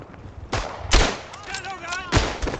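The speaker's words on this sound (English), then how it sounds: "But I was shooting" Gunfire in the World War I shooter Verdun: several sharp, close rifle shots ring out over a couple of seconds, with crackling echoes between them and a voice heard faintly underneath.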